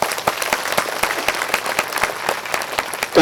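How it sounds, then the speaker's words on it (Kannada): An audience gives loud, steady applause at a women's drum gathering. The claps are quick and fairly regular, with a few louder hands standing out near the front, and there is no talk over them. "ಅವರೆಲ್ಲರಿಗೂ ಜೋರಾಗಿ ಚಪ್ಪಾಳೆ."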